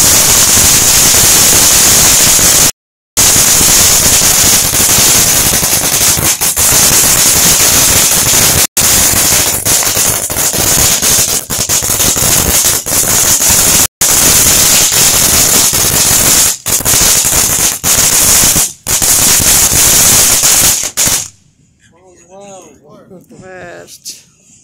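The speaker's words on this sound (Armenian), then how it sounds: "հա, այսպիսի հրավառություն" Firecrackers and fireworks for a Fourth of July celebration crackle in a loud, dense, rapid barrage with brief pauses, then cut off abruptly to quieter background with a voice speaking.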